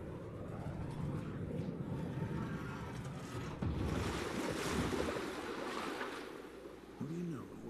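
Water drains away in a level of the video game Evil West, a steady, close rushing wash that swells and holds, with a short game tone near the end.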